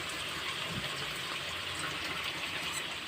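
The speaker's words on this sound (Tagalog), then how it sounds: "Ngayon, lagyan naman natin siya ng" Water runs steadily into a cooking pot in a home kitchen in the Philippines, a soft continuous rushing pour at a moderate distance with no talk.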